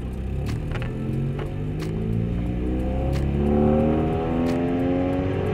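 A car is driven and shifted through gears without using the clutch, its engine a steady, fairly loud hum that climbs in pitch, eases at the shift, then rises again, with no talking.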